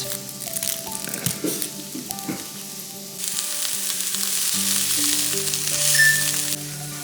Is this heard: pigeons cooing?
no